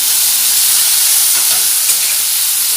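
Onion, tomato and garlic fry in a pan with a loud, continuous sizzle and hiss. The sound stays close and steady throughout, with no talking.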